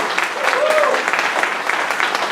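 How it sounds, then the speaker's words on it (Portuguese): Congregation applause at a Saturday morning church retreat, a steady dense patter of clapping that runs the whole time with a voice briefly audible over it. "dá uma salva de palmas para esse povo todo aí."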